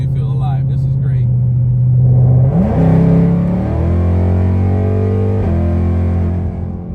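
A 1000 hp 2024 Ford Mustang Dark Horse rumbles loud and close from the cabin, then revs up through rising gear pulls with a deep droning exhaust throughout.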